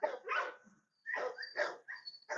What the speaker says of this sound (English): There's a lot of barking going on still.